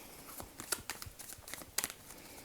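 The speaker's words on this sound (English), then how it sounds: "Okay, let me keep shuffling." Soft, quiet papery shuffling with irregular crisp snaps and flicks, close up and faint.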